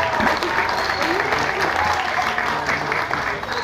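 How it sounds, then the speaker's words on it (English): An audience claps for Miss Belize at a welcome event in Cayo, a dense, loud burst of crowd applause that holds steady throughout. "give her a big round of applause,"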